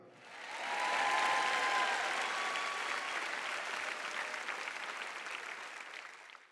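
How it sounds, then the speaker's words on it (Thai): Church audience applauding a preacher, a broad sustained wash of clapping that rises quickly, stays steady for several seconds and slowly fades. "จะไม่ปรบมือเลยเหรอ"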